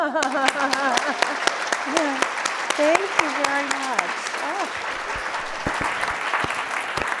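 Applause from an audience at a professional event about equality for women of color, dense rapid clapping continuing throughout while someone talks over it nearby.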